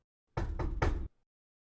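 Three firm knocks on a door in an animated game scene, close and crisp in quick even succession, with no one talking.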